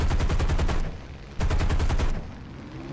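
Aircraft machine guns firing in War Thunder, two loud, rapid bursts of rattling fire split by a short gap, with engine drone underneath.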